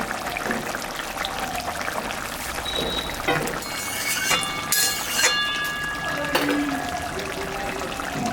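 Mustard oil poured into a simmering hilsa fish curry with cauliflower and potato in mustard paste, a soft trickling pour under light kitchen noise and bubbling, with no talking.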